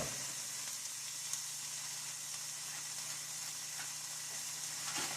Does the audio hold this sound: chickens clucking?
no